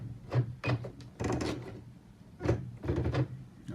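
Sewing machine straining as it sews over a thick jeans hem, slow low thumps and groans in uneven bursts, close and fairly quiet.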